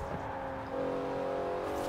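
A new Porsche 911 in Forza Horizon 4 holds a steady, moderately loud engine drone with sustained harmonic tones, nearly alone, rising slightly in pitch partway through as the revs build.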